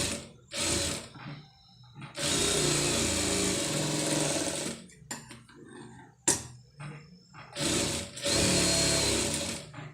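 A sewing machine stitches a neck design on a garment. It runs in bursts of steady mechanical whirring, nearby and loud, with short pauses and clicks between runs and no voices.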